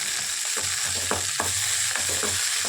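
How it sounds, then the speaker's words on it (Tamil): Turkey berries fry in hot oil, a steady dense sizzle with rhythmic scraping strokes of a spoon stirring them in the pan, close and continuous. "அதுக்கப்புறம் இதை போட்டு நல்லா ஃப்ரை பண்ணி எடுக்கிறோம்"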